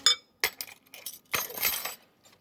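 Metal spoon clinking against a bowl while stirring mint sauce into yoghurt for raita, several bright separate taps and scrapes in quick irregular succession, close and clear with no talking.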